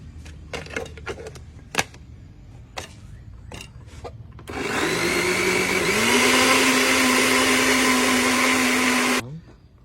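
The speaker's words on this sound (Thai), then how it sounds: "ปิดฝาปั่นอีกทีนึงครับ" A blender whirs loudly and steadily for about five seconds, blending a sweetened jelly mixture of krueo ma noy leaves and syrup, starting abruptly after some clatter and handling noises and stopping just as suddenly.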